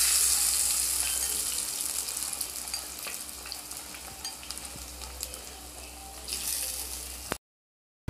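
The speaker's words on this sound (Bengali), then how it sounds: "আর তারপর গরম গরম তেলের মধ্যে ছেড়ে দেব। একে একে সবগুলোকে এরকম তেলের মধ্যে ছেড়ে দেব।" Potato chops coated in gram flour batter fry in hot oil, giving a steady close sizzle that starts bright and loud, settles into a crackling bubble with scattered pops, swells again near the end, then cuts off.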